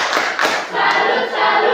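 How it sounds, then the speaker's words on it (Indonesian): A classroom of students claps a rhythmic salute, with sharp, bright bursts of hand claps at a steady beat, close and loud, mixed with a few voices. "Kita beri tepuk salut dulu."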